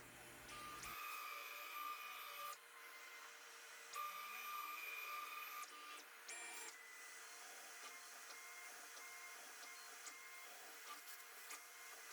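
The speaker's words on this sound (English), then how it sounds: "then it goes back and pockets out the rest of the remaining wood with a rest machining strategy" A PrintNC CNC router pocketing out pine for an inlay with a rest machining strategy, making a steady mechanical whine with intermittent high tonal passes that start and stop in bursts, fairly quiet and continuous without talk.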